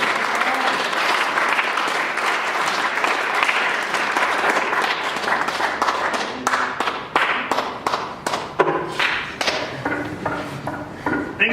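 A comedy club audience applauds comedian Tom Foreman at a café show, dense steady clapping that thins into scattered individual claps toward the end, close and loud.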